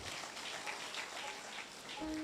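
A congregation at a church anniversary worship service claps in a dense, continuous patter of applause that fills the hall at moderate, fairly distant volume without a break.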